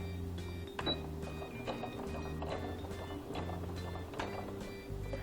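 A domestic sewing machine back-stitches fabric in reverse, giving a quiet, rapid mechanical whirr and clatter of the needle. It runs in short bursts with brief pauses between them, heard up close.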